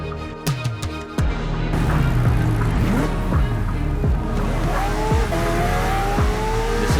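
Tomica diecast toy cars race side by side down a ramp track, their wheels rolling with a loud continuous whir and rattle that starts after a few sharp clicks of release.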